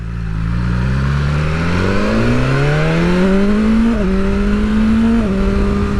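A 2021 BMW S1000R motorcycle engine pulls hard through the revs, its loud, steady note rising smoothly and shifting pitch twice as it climbs, close and without talk.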